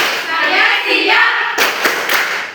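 Students in a classroom clap together in a rhythmic chant, a few sharp claps breaking through a wash of voices near the end.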